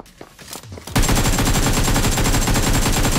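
Rapid automatic gunfire in the BGMI battle royale game bursts in loud and close after a second of quieter clicks and movement, then continues as a dense, unbroken stream of shots to the end.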